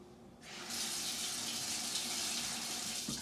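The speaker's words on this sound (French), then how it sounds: "On le rince et on le laisse dans le lavabo." A bowl is rinsed under a sink tap, the water switching on after a brief pause and then running in a steady, close rushing stream until the end.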